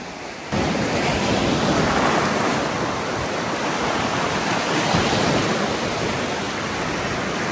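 Sea waves at the Tiruchendur shore make a loud, steady, broadband roar of surf that fills the whole stretch, with a continuous wash of water and no voices.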